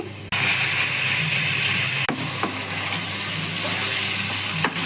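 Spinach paste with onions and turmeric frying in a pan, giving a loud, steady, close sizzle that starts abruptly and carries on with a couple of sharp clicks and no voices.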